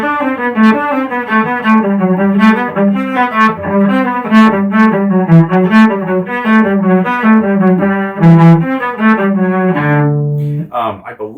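Solo cello plays Marcello's Allegro from Suzuki Cello Book 4 at a brisk, near-performance tempo: a steady run of quick bowed notes, close and full, with no talking, ending on a held note and a short plucked or bowed flourish.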